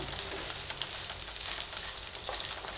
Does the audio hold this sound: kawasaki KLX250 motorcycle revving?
no